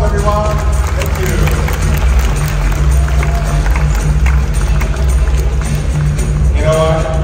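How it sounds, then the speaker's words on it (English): Audience clapping at an outdoor bird-of-prey show in a Singapore bird park, a dense, steady patter of many hands sustained throughout, with a low hum and a crowd murmur underneath. "Let's give a big round of applause, everyone."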